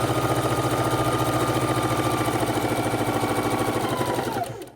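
A sewing machine stitching quilt strips for a patriotic quilt, running with a steady, fast mechanical whir and rhythmic needle chatter close up, then slowing and stopping at the end.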